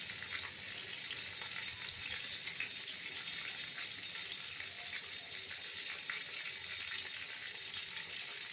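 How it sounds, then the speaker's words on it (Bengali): Magur catfish frying in a pan: a dense, steady hiss of sizzling oil that holds at an even level throughout, heard up close with no speech. "আমি মাছটা ভেজে তুলে নিয়েছি"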